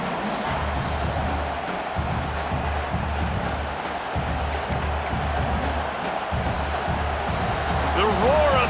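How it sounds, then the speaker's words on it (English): A stadium crowd roars steadily in an EA college football game between Oklahoma and Nebraska, a dense continuous wash of cheering that swells slightly near the end, with faint commentary underneath. "The roar of the crowd trying to fuel this defense to keep them pinned in their own end."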